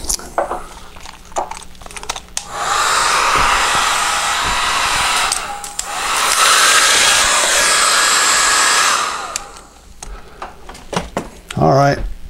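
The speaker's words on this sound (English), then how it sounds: "Let's get the hair dryer out and blow this thing dry" A hair dryer blows on a watercolor painting to dry masking fluid, running loud and steady in two long stretches with a brief dip between, close up; someone talks before and after it and faint clatter follows.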